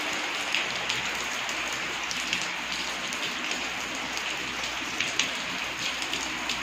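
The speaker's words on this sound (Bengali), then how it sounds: "আর দেখো ঝমঝম করে বৃষ্টি হচ্ছে" Heavy rain pours down on a late afternoon in Bengal, a dense continuous hiss with sharp drops pattering on nearby surfaces, steady and loud throughout with no talking.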